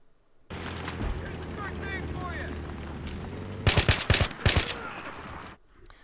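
An AN-94 rifle in Battlefield 3 fires short bursts, sharp cracking shots clustered near the end, over a steady game background hum with a voice talking beneath.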